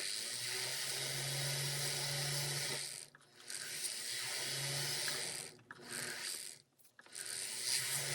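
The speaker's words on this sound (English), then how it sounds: "There's a rotary tool, my flex shaft with a nice coarse grit." A rotary flex shaft tool with a coarse grit attachment whirs and grinds close by, its steady buzz dipping briefly a few times as it touches and leaves the metal.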